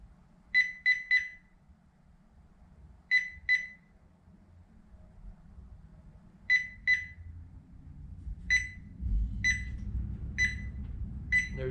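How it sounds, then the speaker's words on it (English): A Thermoworks meat probe thermometer alarm gives short high double and triple beeps in repeated bursts, clear and close, over a low background hum that grows louder toward the end. "Let's go ahead and let you hear what the alarm sounds like."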